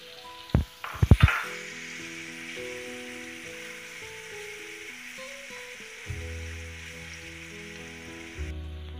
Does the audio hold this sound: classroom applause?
no